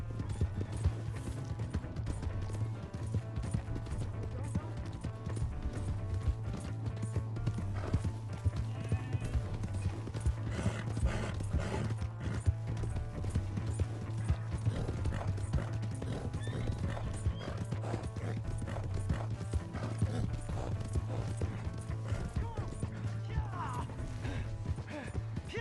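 Horse hooves clip-clopping at a gallop in the video game Red Dead Redemption 2, a steady rapid rhythm running throughout alongside whinnies, clatter and occasional game voices.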